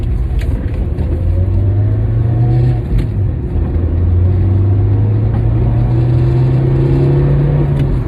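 An old Toyota car accelerates uphill, its engine note rising in long sweeping tones over a steady loud rumble, with a brief gear change partway through before the pitch climbs again.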